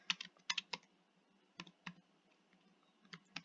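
Keys click on a computer keyboard as code is typed, in short, quiet bursts of a few rapid strokes separated by brief pauses, close and alone.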